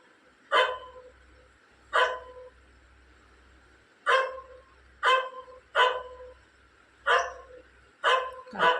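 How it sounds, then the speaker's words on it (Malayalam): A dog next door barks in seven separate sharp bursts spread over several seconds, each bark standing out clearly against a quiet background with short pauses between them. "അപ്പുറത്ത് ടോണി കുരയ്ക്കുന്നുണ്ട്."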